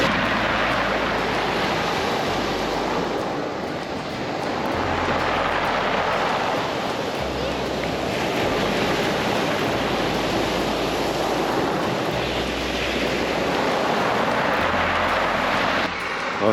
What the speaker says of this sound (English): Powerful sea.